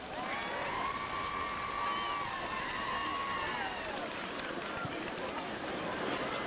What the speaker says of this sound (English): Big round of applause for our 2018 Fighting Wildcat cheerleaders and their parents.